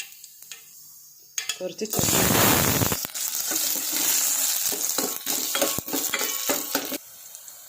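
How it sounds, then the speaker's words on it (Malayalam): Mustard seeds crackle and splutter in hot coconut oil in a home kitchen pan, a dense burst of popping and sizzling that starts loud and continues with scattered pops, with brief speech at the start. "വെളിച്ചെണ്ണ നന്നായി ചൂടായിട്ടുണ്ട്. നമുക്കതിലേക്ക് കടുക് ഇട്ട് കൊടുക്കാം."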